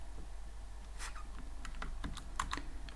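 Keys on a computer keyboard tap in quick, uneven bursts, close and fairly quiet over a low steady hum.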